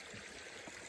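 Water from a squeezed gravity-fed filter trickles and splashes steadily into a container for a brief moment, close and alone, with no voices.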